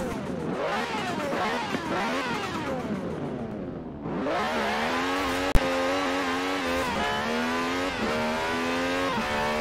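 A 2016 Dodge Viper ACR in Forza Horizon 4 accelerating hard from a standstill, its engine revving up through successive rising gear pulls, loud and close, with a brief sharp click partway through and no speech.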